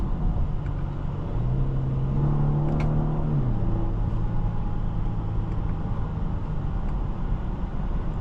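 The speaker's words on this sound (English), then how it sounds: "Decent acceleration." A 2027 Genesis G80 3.5T accelerates, heard from inside the cabin as a rising engine note over a steady road rumble. The pitch climbs and then levels off, with no talking.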